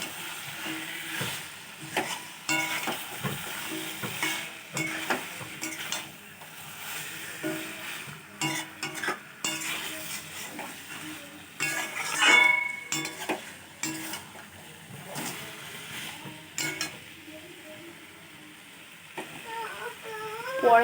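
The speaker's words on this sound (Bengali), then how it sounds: "মাংসটা এখন ভালো করে নাড়িয়ে নেব কিছুক্ষণ।" Meat is stirred and fried in a pan, with a low, uneven sizzle under repeated scraping and clattering strokes of a utensil against the pan, close and moderately loud, with occasional brief murmurs of a voice.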